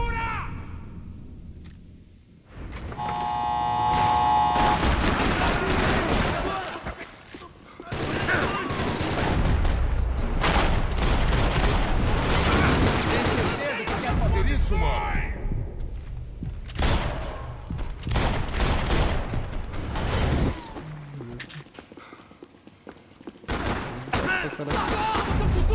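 Loud gunfire in the Max Payne 3 video game comes in repeated volleys and rapid bursts, separated by brief lulls, with thuds and clatter and a voice speaking in places.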